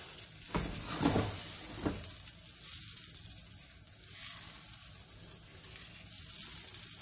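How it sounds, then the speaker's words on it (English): Eggs with sweet Maui onions in a pan, a faint, quiet sizzle with a few scraping stirs early on, then a soft steady hiss. "So I'm just going to stir these up, keeping the edges off."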